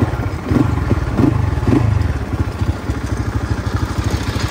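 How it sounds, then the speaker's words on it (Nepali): A motorcycle engine runs nearby in a Nepali hill setting, a loud, throbbing mid-pitched chug with a few rising revs early on, then settling into a steady idling putter. "बाइक कुदेर आउनु पाउँदो रहेछ नि त होइन"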